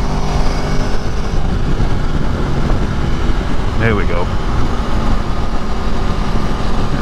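A 2018 Aprilia Tuono V4 motorcycle hums steadily under heavy wind rush while riding, with a brief rider's voice partway through.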